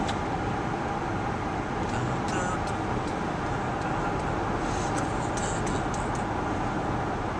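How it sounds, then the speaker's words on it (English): Steady broadband road and wind noise fill the cabin of a 2011 Toyota Highlander cruising at 65 mph on an interstate on a cold, windy day, a constant even hum with faint ticks and no talking. "you'll notice how quiet the car is"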